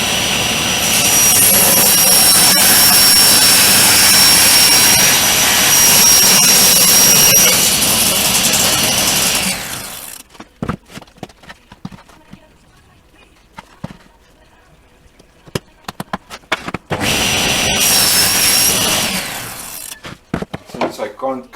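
A saw cuts angles on cedar deck boards using a makeshift sled, with a loud sustained whining cut, a stretch of quieter clunks and handling, then a second short burst of cutting.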